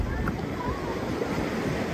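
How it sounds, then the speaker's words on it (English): Strong surf rolls onto Waikiki Beach in Hawaii, a steady broad wash of breaking waves with wind buffeting the microphone, continuous and close at beach level. "The waves are coming in pretty hard today."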